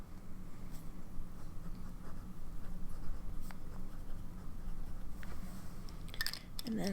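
A fountain pen with a fine nib, filled with Colorverse NASA Blue ink, scratches across paper in soft, close strokes over low room hum, with a few brief clicks and rustles near the end.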